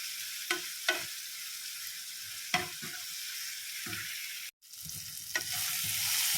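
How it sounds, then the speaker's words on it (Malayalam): Tomato and onion sautéing in oil for a chickpea-free green gram curry, a steady close sizzle with a few sharp stirring scrapes and clinks spread across it, briefly cut off once before the frying hiss returns louder. "ഇതെല്ലാം ഒന്ന് ഈ എണ്ണയിൽ നമുക്കൊന്ന് വഴറ്റിയെടുക്കാം"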